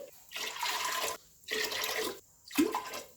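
Water is poured from a glass onto rice in a pot for cooking khichdi, three separate pours with short pauses between them, each a steady close splashing rush.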